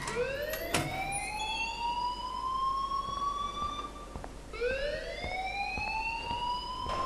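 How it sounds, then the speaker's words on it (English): Rising and falling siren-like alarm wails in the video game Life Is Strange, two long sweeping tones with a break between, loud and steady with no talk over it. "please turn off that alarm since that's your job"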